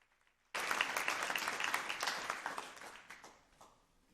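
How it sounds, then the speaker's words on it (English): After a brief quiet moment, an audience at a school board meeting bursts into applause that holds strong for a few seconds, then thins out and fades away. "let's give our applause to Mike for his great work"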